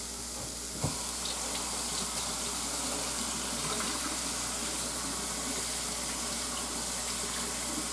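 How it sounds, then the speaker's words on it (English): Tap water runs steadily into a kitchen sink while a plate is washed beneath it, a continuous close splashing hiss with a single small clink near the start. "make sure to wash the plate you used."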